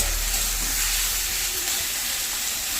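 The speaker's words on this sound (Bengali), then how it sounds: "এই যে এখানে পেঁয়াজ ভাজছি।" Onions frying in a pan give a steady, dense sizzling hiss that stays even and close throughout, with no voices.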